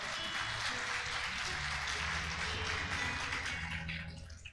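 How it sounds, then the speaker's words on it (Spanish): A church congregation claps during a Spanish-language sermon, a faint, continuous patter of hands with a low hum underneath, fading at the close. "¿Cuántos aplauden la gloria del Señor?"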